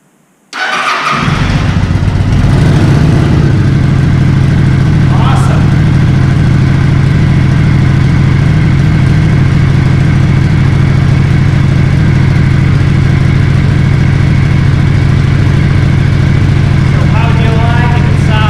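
A Kawasaki Vulcan 900 Classic motorcycle that has sat unused for a while cranks and fires up, then settles into a loud, steady, rumbling idle that runs on without a break.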